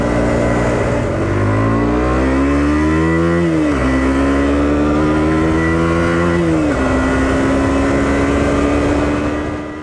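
A KTM 125 Duke motorcycle revs hard while riding through twisty roads, its loud, close engine note climbing through the gears with brief dips at each shift.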